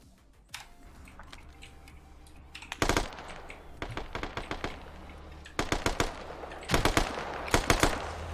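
Video game gunfire in a Squad tactical match, with bursts of rapid shots arriving in loud clusters separated by short gaps, building from a faint first crack to heavier volleys.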